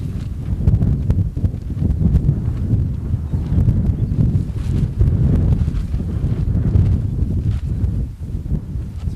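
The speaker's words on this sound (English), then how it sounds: "the wind is coming this way, so it's blowing everything sideways" Wind gusting against a pitched MLD silnylon Trailstar shelter, a constant low buffeting roar that swells and eases in uneven gusts, close and fairly loud, with no speech.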